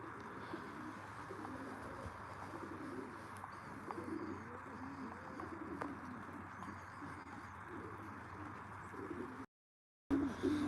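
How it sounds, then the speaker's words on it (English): Racing pigeons in a loft cooing continuously in low rolling phrases, close and steady, with faint chirps, then a sudden cut to silence near the end. "These are my unmotivated lazy pigeons."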